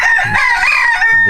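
A chicken gives a loud, close, drawn-out crow or squawk inside a muddy chicken coop crowded with about 30 adult birds, with faint clucks around it.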